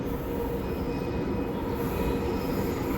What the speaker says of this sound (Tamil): இதோ வந்துடுச்சு ஆக்சுவலாக ட்ரெயின்.